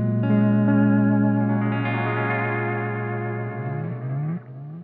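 Electric guitar chords played through an Xvive V21 Echoman analog delay pedal, each strum trailed by repeating echoes with a shimmering chorus-like wash, sustained and fairly loud with no voices.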